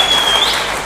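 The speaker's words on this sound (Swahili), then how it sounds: "Pigieni JCM makofi" Brief burst of applause from a church congregation during a Kenyan pastor's sermon, loud and dense for under a second.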